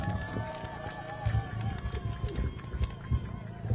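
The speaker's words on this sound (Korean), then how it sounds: "큰 박수로 모시겠습니다" Short burst of crowd applause welcoming a campaign speaker at an outdoor election rally in Guri's town square, busy clapping with loud swells under a voice over the loudspeaker.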